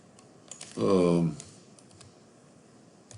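Light clicks of typing on a computer keyboard come and go around a brief spoken word, close and fairly quiet.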